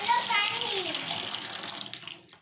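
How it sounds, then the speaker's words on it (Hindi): Lukewarm water pours into a tub for washing baby toys, a close, fading splash and gurgle with faint voices underneath. "गुनगुना पानी को एक टब में डाल देना है"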